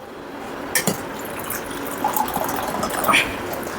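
Water poured into a round cooking vessel, a short splashing fill with light clinks of the metal pot, fairly close.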